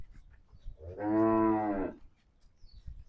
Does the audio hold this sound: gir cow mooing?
yes